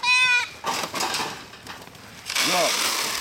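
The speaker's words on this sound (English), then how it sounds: "Watch these goats." A goat gives a loud, close bleat, then a second shorter bleat follows a couple of seconds later, with faint farmyard noise in between.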